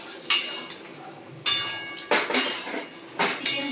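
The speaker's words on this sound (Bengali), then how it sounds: "চিকেনগুলো দিয়ে ভালো করে একটু নেড়ে দিলাম।" A metal spoon stirs chicken pieces in gravy in a pan while chilli chicken is cooked. About five separate scraping clinks of utensil against pan come close and clear, with quiet pauses between them.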